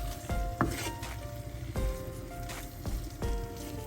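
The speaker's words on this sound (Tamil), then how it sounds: "இந்த மசாலா வெங்காயம் தக்காளி எல்லாம் முட்டையோட சேர்ற மாதிரி நாங்கள் இப்போ கலந்து விடுவோம்" Egg masala with onion and tomato sizzles in a pan as it is stirred, with soft scraping strokes and clinks over a continuous frying hiss.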